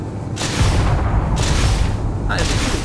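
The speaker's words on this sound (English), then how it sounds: "That is a good explosion animation." A spaceship explosion in the Space Engineers video game, heavy booming bursts that erupt in several loud waves over a few seconds, close and filling the mix.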